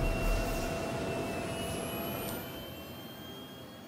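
Anvil Aerospace spaceship engines lifting off in the Star Citizen video game give a steady, close, jet-like roar with a faint high whine. The roar eases slightly partway through, with no talk.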